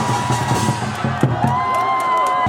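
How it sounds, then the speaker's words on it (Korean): Crowd applause and cheering fill an outdoor presidential election campaign rally at Ansan Culture Square, a dense, sustained wash of clapping and shouts with tonal sound running through it. "여러분 큰 박수 보내주시기 바랍니다"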